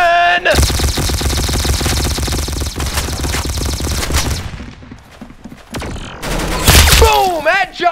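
Rapid gunfire bursts and shots from a Roblox shooter game fill most of the stretch, loud and dense, then a brief lull before more shots and a rising synthetic effect near the end.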